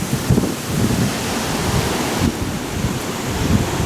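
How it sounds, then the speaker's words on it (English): Strong typhoon wind funnels down through mountain valleys in Taiwan, a continuous loud, rumbling roar with gusty buffeting that never lets up. "Wind still funneling down through these valleys, obviously."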